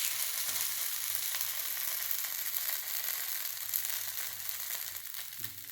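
A Mysore dosa crisps on a hot pan with a steady, loud, even sizzle, frying continuously with no one talking.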